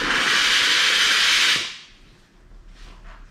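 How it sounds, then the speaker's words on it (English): A McCulloch 1385 steam cleaner gives a loud, close burst of hissing steam for about a second and a half as it hits stains on a car's interior, then cuts off into quiet handling noise. "what I'm going to do is I'm going to hit these stains with my steamer. It's a McCullough 1385."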